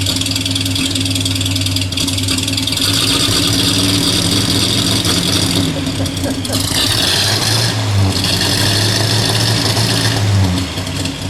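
A 1933 Buick Series 90 limousine engine runs at idle, a steady rumble with occasional shifts in pitch and some faint background voices.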